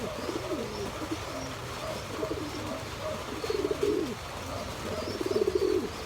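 Breeder pigeons coo softly in rainy weather, a steady series of low, rolling calls repeating every second or so at close to moderate distance, over a constant background hiss.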